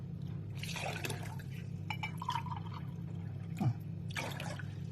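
Water pours into a cup in a home kitchen, soft intermittent splashing and trickling bursts over a steady low hum, fairly faint, with no speech.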